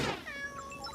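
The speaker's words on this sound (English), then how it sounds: "Kittens." Cartoon kittens giving a short, high meow, clear and close and heard alone.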